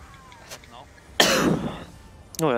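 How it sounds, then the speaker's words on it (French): A single harsh cough bursts out close up during an Elder Scrolls Online game stream, followed by a brief throaty sound, with soft speech-like murmurs before it. "Désolé les gens sur le stream, je tousse."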